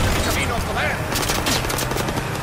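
Rapid bursts of machine-gun fire in the World War II shooter Call of Duty: WWII, a dense, loud rattle of overlapping shots that continues through the short stretch with little pause.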